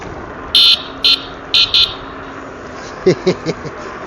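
A small scooter horn beeps four times in short, shrill bursts, with a brief low voice murmuring afterward over faint street noise.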